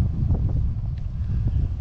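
Steady low wind buffeting a microphone outdoors in Arlington Heights on a windy 4th of July weekend, a constant rumbling roar with no voices.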